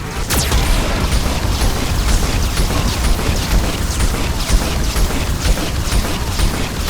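Geth cannon fire in the video game Mass Effect 2, a dense, continuous barrage of loud booms and mechanical clatter with crackling bursts running throughout, no pauses.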